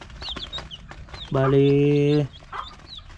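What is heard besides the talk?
chickens clucking in coop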